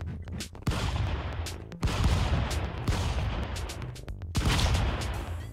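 Shotgun blasts ring out in the 2D brawler Stick Fight: The Game, four or five loud, sharp booms arriving at irregular intervals, each one trailing into dense, rumbling gunfire and action noise.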